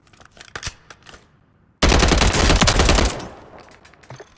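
Sustained burst of video game SMG fire, loud and dense, lasting over a second after scattered quieter clicks and taps, then tailing off into low clatter.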